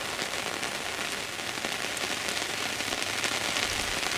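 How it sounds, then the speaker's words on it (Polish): Heavy rain pours steadily on surfaces at an autumn riverside feeder-fishing spot, a dense, loud, unbroken hiss throughout. "Wy widzicie, jak to mocno pada."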